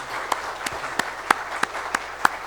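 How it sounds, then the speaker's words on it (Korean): A church congregation clapping after a service, heard as a sparse, fairly regular run of about seven sharp claps spaced evenly apart over a low background. "애쓰신 분들을 위해서 큰 박수로 사랑을 같이 나누도록 하시겠습니다"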